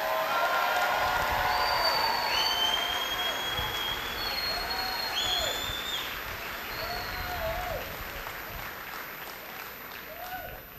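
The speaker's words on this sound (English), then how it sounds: "give our graduates a hearty round of applause" Audience at a Defiance College 2023 commencement ceremony gives the graduates a sustained round of applause, a dense wash of clapping across the hall with a few scattered cheers and whistles, gradually easing off toward the end.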